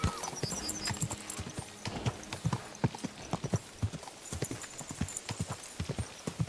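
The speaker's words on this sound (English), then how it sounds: "o cavalo respirar" Horse galloping in the video game Kingdom Come Deliverance 2: steady, rapid clip-clop hoofbeats sound close and clear throughout, with a brief whinny and faint game ambience beneath.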